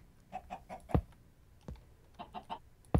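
Chickens clucking in the video game Minecraft, short clustered clucks arriving in a few quick bursts, each run of three or four closing with a sharper thud, close and fairly quiet.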